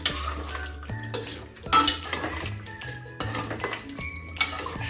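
A spoon scrapes and clanks against a pot as cauliflower and potato curry with water is stirred, with repeated metallic knocks and sloshing scrapes close by, no voices.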